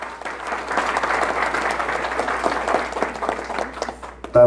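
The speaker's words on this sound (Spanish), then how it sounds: "Aplausos fuertes para ellos." Steady applause from a crowd for newlyweds at a mass wedding ceremony, dense clapping sustained throughout with no voices, ending abruptly.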